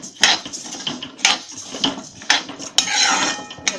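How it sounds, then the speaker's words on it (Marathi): A spoon scrapes and clinks against a pan as wheat is stirred while roasting in ghee, with sharp metallic knocks arriving every half second or so and no voices. "आता भाजून घेते हे चांगले हलवून"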